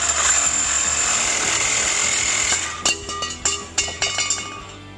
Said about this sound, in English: First time I've tried cutting a pipe with this particular saw, so we'll see how it goes.